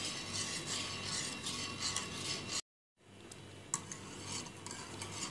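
A spoon scrapes and stirs steadily in a pot of milk as cornflour is added bit by bit for a pineapple trifle custard, soft and close, broken by a short silent gap.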